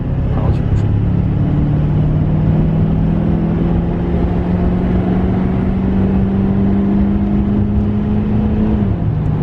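A Duramax diesel pickup with a 150-plus horsepower tune pulls hard at full throttle, a loud steady engine drone rising slowly in pitch over several seconds before easing off near the end.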